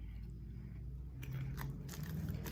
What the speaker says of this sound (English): these are crunchy chips